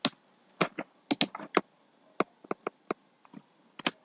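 Someone types on a computer keyboard while working in Revit, producing irregular, close, crisp key clicks in short bursts with brief pauses between strokes.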